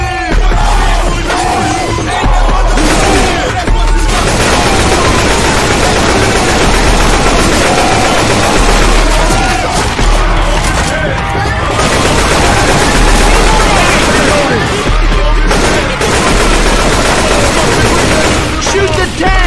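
Dense, loud automatic gunfire from several survivors shooting at the Tank in Left 4 Dead 2's Dead Center, continuous rapid bursts mixed with yelling voices and chaotic game noise throughout.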